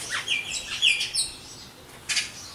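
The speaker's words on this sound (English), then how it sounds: "birds are happy." Birds chirp outdoors in Utah, several bright high tweets and short trills scattered across the moment, fairly close and clear above a quiet background with no one talking.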